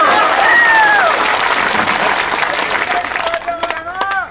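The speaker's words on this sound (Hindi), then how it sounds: "दलाल साहब की आगमन पे तालियां जोरदार बजनी चाहिए" Crowd clapping at an outdoor political rally for a BJP candidate rises into a dense burst of applause, with a voice speaking over it and the clapping thinning out toward the end.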